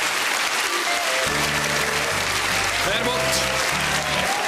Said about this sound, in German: Unter einem tosenden Applaus für das wunderbare Dessert.